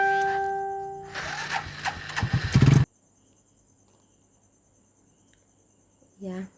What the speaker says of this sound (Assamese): ইয়া বাইকত যাই আছো